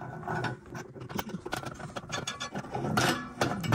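Screwdriver with a ground-down tip working a check valve loose from a vintage Coleman gas lantern, giving faint, close, irregular metallic scraping and clicking under a low background hum, no talk.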